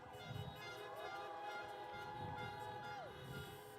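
Car horns at a Biden drive-in campaign rally in St Paul, Minnesota, honk continuously in overlapping tones of shifting pitch. They sound at moderate distance, with faint crowd noise beneath.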